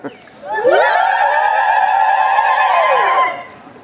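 Someone attempting the zagarit, a high rapid la-la-la trill made with the tongue tip, sustained and loud for nearly three seconds, then sliding down and fading.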